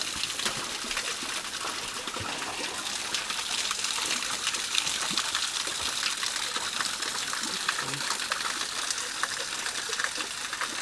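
Steady rushing water of a waterfall in Louisiana, a continuous bright splashing hiss with no pauses, moderately loud and close, with no voices.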